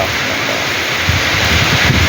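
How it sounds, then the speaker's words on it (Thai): Steady wind rushes through trees during a rain shower, a continuous broad roar with rustling leaves that swells slightly in the second half, with no voices. "ลมมา"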